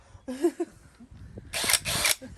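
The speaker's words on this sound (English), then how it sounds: "show you some proper drilling now" Two loud bursts of a power drill whirring, each about a quarter second apart, following a short stretch of voice-like sounds and clatter.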